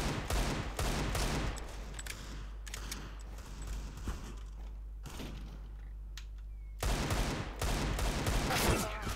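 Bursts of gunfire in the shooter game CS:GO, with loud rapid shots at the start and again near the end and quieter game noise between.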